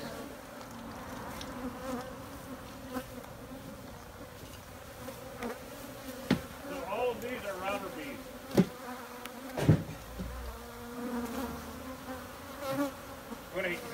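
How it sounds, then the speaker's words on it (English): A dense, continuous buzzing of a huge number of bees fills the air outdoors in Arizona, with occasional louder passes of individual insects close by. "It's just such an incredible amount of bees."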